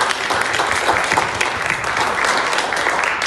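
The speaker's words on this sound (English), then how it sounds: "if we could please give a round of applause to our terrific moderator" A candidates forum audience applauds the moderator, a loud, dense round of clapping from many hands that holds steady for several seconds with a faint murmur of the crowd underneath.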